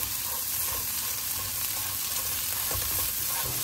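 Pumpkin greens frying in a little oil, a steady soft sizzle with light stirring scrapes throughout, close and moderately quiet, with no voices.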